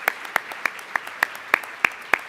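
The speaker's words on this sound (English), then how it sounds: "Another round of applause for our panelists." Sparse, evenly spaced claps ring out for a panel at a college campus event, roughly eight sharp hits in steady rhythm, near and moderately loud with no voices.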